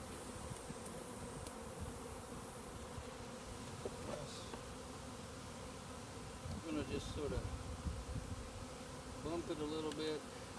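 Honey bees from a swarm being captured buzz steadily and close, a dense continuous drone with occasional knocks and faint movement behind it.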